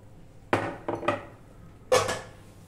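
Broad bean (chikkudukaya) curry is served from a cooking pan into a bowl: four sharp metallic clinks and knocks of spoon against pan, spaced unevenly, close and moderately loud, with no talking.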